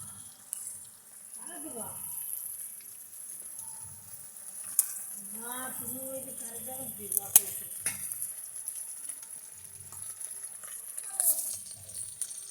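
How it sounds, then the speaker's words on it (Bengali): Potatoes fry in a pan with a faint, steady sizzling hiss running throughout, while people talk quietly over it. "আলুটা ভাজা হয়ে গেছে।"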